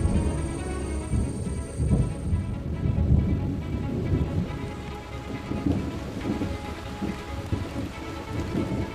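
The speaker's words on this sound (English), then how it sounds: "The nest is rocked by wind and hammered by rain." A heavy rainstorm in the Amazon rainforest: dense rain pours continuously while thunder rumbles low and deep, loud and enveloping throughout.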